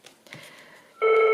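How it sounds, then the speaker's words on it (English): A phone rings with a steady electronic tone that starts abruptly and stays loud, right after some quiet indoor shuffling during a crafting session gluing a travel journal. "bear with, that's my phone."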